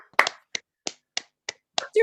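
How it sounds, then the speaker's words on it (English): A few people in an online class clap on cue, giving a quick run of about seven separate sharp claps or snaps at an uneven pace. A voice starts right at the end. "Everyone unmute and like, let's just clap."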